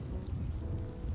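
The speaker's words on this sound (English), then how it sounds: "I just got hit by thunder." A brief thunder strike in the mountain-climbing game Surmount: a low, heavy rumble with a rain-like hiss on top, fairly faint and lasting about a second.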